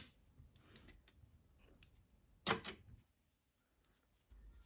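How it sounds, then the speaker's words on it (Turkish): Scissors snipping green knitting yarn while making a baby vest; one sharp close snip stands out among faint small clicks in a quiet room. "Yeşil renkli ipliği kesiyorum."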